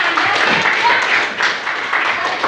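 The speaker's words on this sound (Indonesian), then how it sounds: "boleh tepuk tangan" Classroom of children clapping, a dense broadband patter of hands that holds steady for a couple of seconds, with voices mixed into it.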